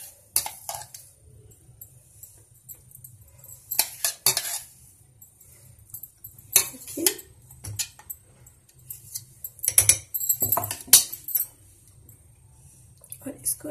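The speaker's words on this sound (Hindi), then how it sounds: "अब हम इस पेस्ट को इसमें मिक्स करेंगे" A spoon stirs spice paste into whisked yogurt for raita, giving intermittent clinks and scrapes against the bowl in irregular bursts with quiet gaps between them.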